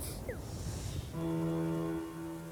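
A loud, sustained electronic video game horn blares for over a second after a short rustling lead-in, holding steady chord-like tones before tapering off.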